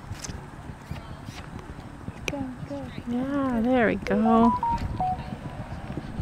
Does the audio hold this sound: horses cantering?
yes